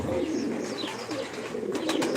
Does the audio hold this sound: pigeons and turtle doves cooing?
yes